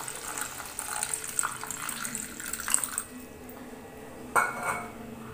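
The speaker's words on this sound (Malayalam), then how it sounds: "വെള്ളം ഒഴിച്ചു കൊടുക്കാം." Water is poured into a pan of tomato curry, a close splashing trickle with light clinks of the pot, followed by a brief stir and knock.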